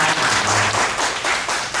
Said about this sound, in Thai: ขอเสียงปรบมือให้กับผู้นำ